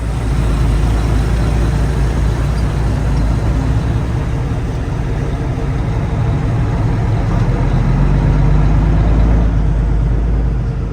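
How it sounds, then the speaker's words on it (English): Trucks roll past on a road, a loud, continuous heavy engine rumble and tire roar close by that swells slightly as a vehicle goes by. "Just waiting for some of these trucks to pass by"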